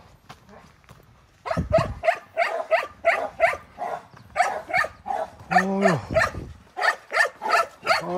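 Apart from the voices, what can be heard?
dog barking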